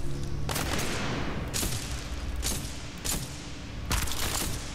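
Gunfire in Titanfall 2, loud bursts of shots and booming impacts arriving in several separate volleys over a steady roar of battle noise, close and dense.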